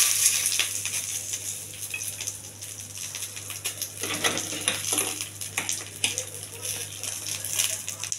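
Urad dal, chana dal and curry leaves frying in a pan, a soft continuous sizzle with metal utensil scrapes and clinks while stirring, under a low steady hum.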